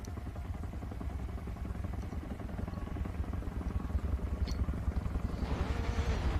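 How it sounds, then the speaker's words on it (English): A helicopter hovers in the background at a Catalunya circuit race, a rhythmic low chopping that grows somewhat louder, with a faint engine whine rising toward the end. "You can hear the chopper in the background."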